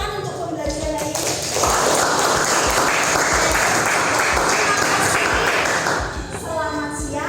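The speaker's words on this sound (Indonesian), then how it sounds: "Boleh berikan tepuk tangan untuk pembelajaran hari ini." A class applauds at the end of a school lesson: a burst of steady, fairly loud clapping lasting about four seconds, with speech just before and after it.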